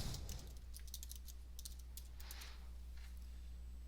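Typing on a computer keyboard while entering a name into balanced scorecard software, a string of light, quick key taps in small clusters over a low steady hum, close and fairly quiet.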